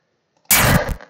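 A single shooting sound effect fires in a Unity video game built with sprite effects. It is one sharp, loud burst of about half a second that starts abruptly and tails off quickly, with silence before it.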